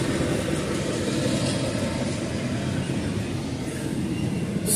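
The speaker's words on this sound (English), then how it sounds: "Watch the Amtrak come through, we won't be able to see it." An Amtrak train passes close by in a steady, loud rumble with broad rushing noise and low-end roar that holds throughout, with no voices.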